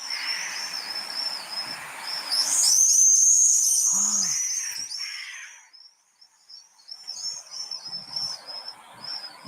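Shrill, high-pitched screaming calls of swifts sweep past in bursts, with a loud close pass in the middle, over a faint background of insects.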